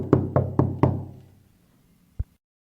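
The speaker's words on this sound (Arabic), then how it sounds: "ذهب إلى كوخ الخراف وطرق على الباب" Four firm knocks on the door of a sheep hut, close and evenly spaced, then a pause and one last single knock.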